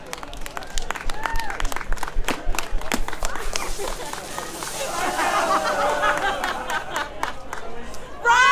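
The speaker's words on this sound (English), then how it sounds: "give a huge round of applause" Crowd at a Western Springs Speedway podium ceremony, clapping and chattering in a steady wash of applause under a loud announcer-style voice, with scattered cheers building toward the end.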